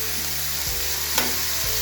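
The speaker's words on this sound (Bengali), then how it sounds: "পেঁয়াজটা ভাজা ভাজা হয়ে আসছে" Sliced onion and tomato sizzling steadily in hot oil in a pan, a loud continuous crackle with a couple of stirring scrapes, no voices.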